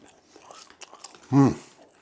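Someone bites into crunchy homemade chips, fluffy in the middle, with one loud close crunch followed by quiet chewing and mouth sounds.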